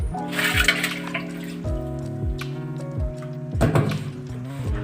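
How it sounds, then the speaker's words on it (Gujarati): Water mixed with Eno fruit salt is swirled inside an old clay pot, giving hollow, ringing sloshes that repeat in uneven waves and resonate close by without speech. "આ રીતે આપણે સરસ એવું એને હલાવી લેશું આખા માટલામાં પાણી ઈનોવાળું પાણી આખા માટલામાં થઈ જાય"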